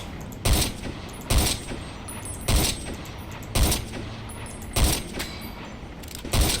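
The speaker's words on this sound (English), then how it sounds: "you can hear the shooting, like the sound effects, I guess" Gunfire in Fallout: New Vegas, six sharp shots spaced about a second apart over a low ambient hum.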